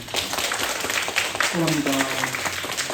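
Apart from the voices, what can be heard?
congregation applauding to welcome a newcomer in church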